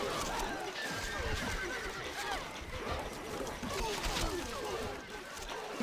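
A horse in the Stronghold: Crusader video game whinnies repeatedly over a steady patter of clip-clopping hooves, fairly close and moderately loud.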